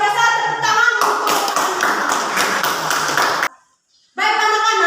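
A classroom of children claps in a burst of quick, close hand claps lasting a few seconds, with a voice talking before and after and a brief silent gap.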